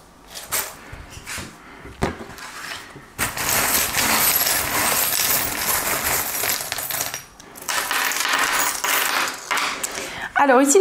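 Small metal charms scattered for a card reading, clattering in bursts of jingling, rattling impacts that spread and settle, fairly close and loud, with quieter gaps between the drops.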